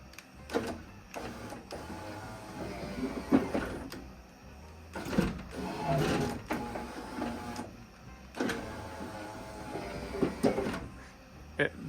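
A power window motor in a Ford Falcon with a swapped-in Lexus body runs the glass up through dry tracks with worn-out felt stripping, giving a strained, rough mechanical whir in repeated bursts, close by, with no talk.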